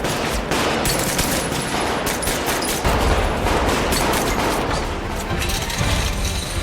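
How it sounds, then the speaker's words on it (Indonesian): Rapid bursts of automatic gunfire in a film crackle almost without pause, loud and dense, with mechanical clatter mixed in. "Ternyata musuh kembali muncul melancarkan tembakan."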